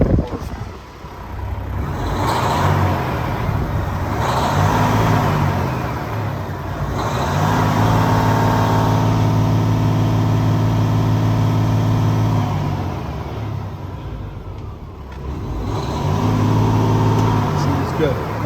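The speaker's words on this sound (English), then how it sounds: "We'll leave it on standard idle. I'll let you have a listen." Paccar MX13 diesel in a 2015 Peterbilt 579, a 455 hp, 13-speed manual truck, idles with a steady low rumble, and its cooling fan swells louder at times; a person talks over the close, continuous engine noise.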